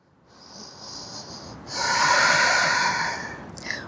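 Deep breathing during a yoga class, a close nasal inhale followed by a longer, louder exhale through the nose, heard alone.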